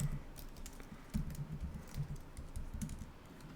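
Rapid, steady typing on a computer keyboard without a numeric keypad, close and clear, the keystrokes clicking continuously with no voices.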